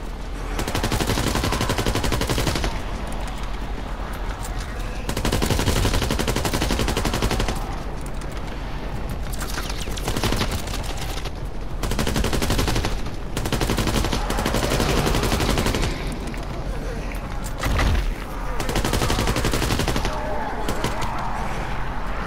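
Heavy, continuous gunfire from Call of Duty WWII Nazi Zombies, a dense stream of rapid shots running nearly unbroken through the whole stretch, loud and close, with a few brief lulls.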